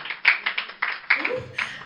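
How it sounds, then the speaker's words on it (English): Audience clapping as a poet walks onstage at a spoken word poetry event, a short burst of hand claps with a few louder individual claps standing out, a voice or murmur underneath toward the end. "A round of applause as she takes the stage"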